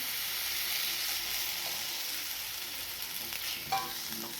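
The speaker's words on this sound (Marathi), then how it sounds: "अगदी असा तडका बसला पाहिजे आमटीला." Hot tadka (tempering) poured into amti, a Maharashtrian lentil curry, sizzles sharply and steadily at close range with a little stirring, no voices.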